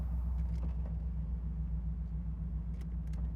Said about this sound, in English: Power windows, passenger side.